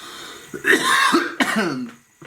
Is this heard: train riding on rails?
no